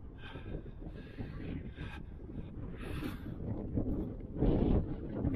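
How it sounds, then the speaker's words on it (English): Steady, rumbling wind buffeting the microphone at Quorn and Woodhouse station on the Great Central Railway, with gusts rising louder near the end. "It's very windy."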